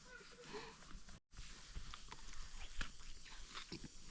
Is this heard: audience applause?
no